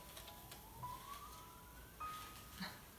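A distant emergency-vehicle siren drifts by outdoors, a faint rising and falling wail low in the mix with a few soft bird-like chirps over steady background hiss.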